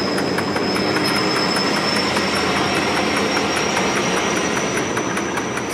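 A Grosse Bleue diesel locomotive with a V16 engine pulls away slowly, its engine droning loud and steady with a high whine and regular rhythmic clicks over a low rumble, no voices.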